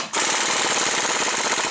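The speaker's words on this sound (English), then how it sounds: "I'm going to go ahead and use my air impact." An air impact wrench hammers loose the bottom bolt of a front shock on a 4x4 Dodge Dakota, a loud, rapid, continuous rattling burst that starts abruptly and runs close up for nearly two seconds.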